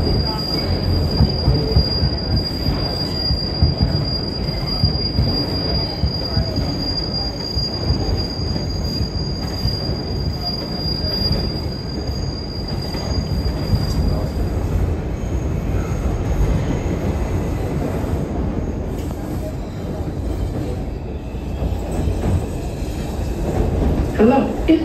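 An R142 subway train on the 2 line rides from Flatbush Avenue toward East 18th, with a loud continuous rumble and a sustained high wheel squeal through the first half, the rattle carrying on throughout.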